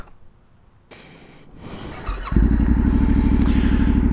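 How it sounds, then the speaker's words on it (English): An old Tenere motorcycle climbs a wet, slippery trail on the Cauldon Mill ascent; after a quiet start, the engine swells and settles into a loud, steady, close throb as the bike pulls uphill. "It is quite wet underfoot, so the old bike's been squirming and squealing around a little bit."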